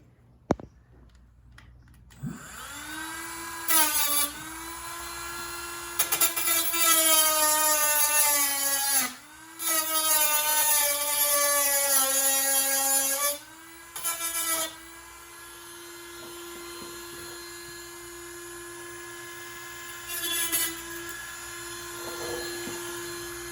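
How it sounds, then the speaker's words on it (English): A power drill whines in several high-pitched bursts of varying length, separated by short pauses, while driving into the rub rail insert on a Honda Aquatrax personal watercraft. "I have my drill right here."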